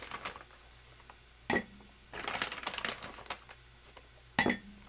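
Teaspoons of almond flour going into a bowl, with a few sharp metallic clinks of spoon on bowl and some soft scraping and rustling in between, close up and without talk.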